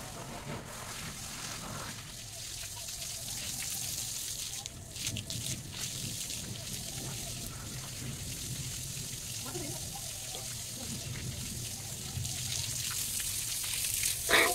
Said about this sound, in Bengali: রান্না করার ছাদটাতে একটু জল দিয়ে দিচ্ছি।